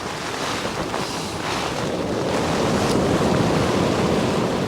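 Waves surging onto a shingle beach at Beesands during a sea-fishing session, with strong wind buffeting the microphone, a loud continuous rushing roar that swells slightly toward the end, no talking.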